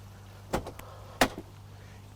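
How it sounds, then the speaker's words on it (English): Two sharp clunks of a campervan's rear doors opening close by, each followed by a softer rattle, against a quiet low hum. "Open the back doors"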